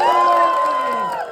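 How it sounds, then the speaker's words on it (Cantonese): Wedding guests cheer loudly for the newlyweds in a brief, close, massed shout that fades slightly at the end. "我要你哋最熱情興奮嘅掌聲、 歡呼聲送俾一對新人，好唔好？"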